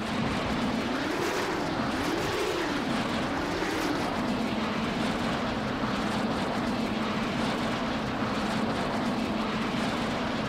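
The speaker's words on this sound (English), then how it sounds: "they got an AWACS plane flying with a lot of escorts" An AWACS plane flies in the video game Saints Row: The Third, a loud, sustained jet-engine roar with a slowly wavering droning tone that sweeps up and down early on, steady and close with no talking.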